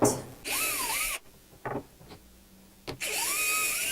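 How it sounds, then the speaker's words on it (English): A power drill whirs in two sustained bursts with rising and falling pitch, pre-drilling a wooden shelf, separated by a pause with a few quiet clicks and knocks. "I'm going to pre-drill the shelves here, so the wood won't split."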